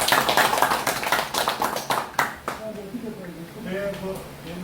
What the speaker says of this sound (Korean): 우리 예비 후보님께 박수 한번 쳐주십시오